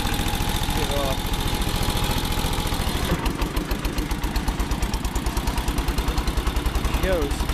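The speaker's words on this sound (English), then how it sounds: "Got the biggest one cylinder engine you can get. Air cooled. 1200 RPM." A Wisconsin AHHD single-cylinder, air-cooled engine with a 4-inch piston runs at about 1200 RPM, driving a 1953 Devilbiss US Navy air compressor through a twin disc clutch. It makes a loud, steady, rapid thumping throughout, and the tone shifts partway through.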